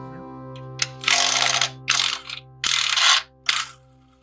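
A ratchet loosens 13 mm bolts on a Ford engine, heard up close as several short bursts of rapid clicking separated by pauses, over a faint background hum.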